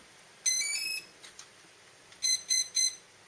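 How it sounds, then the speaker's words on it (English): Sharp electronic beeps from a quadcopter's motor speed controllers arming on power-up, first a longer tone, then three quick beeps in a row, moderately loud over a quiet hum. "get beep, beep, beep, and then a continuous beep"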